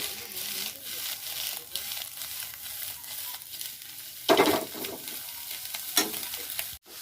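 Shredded cabbage stir-fried for egg fried rice, with a steady hot sizzle under the scrape and clatter of a spatula stirring and tossing it in the pan, close and continuous.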